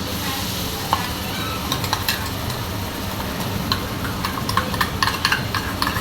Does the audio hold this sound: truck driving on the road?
no